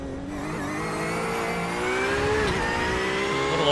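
A mid-engine Porsche race car on a road course track roars loudly as it accelerates, its engine pitch climbing steadily, dipping briefly, then rising again in a sustained close-up howl with no voices.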